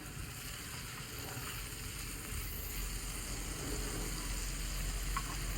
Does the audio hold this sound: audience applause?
no